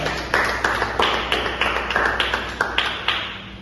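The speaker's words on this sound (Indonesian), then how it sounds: "Silakan tepuk tangan kepada kelompok" A class applauds a student group, heard as a few close, sharp claps in a steady rhythm, roughly two or three per second, each one ringing briefly in the room.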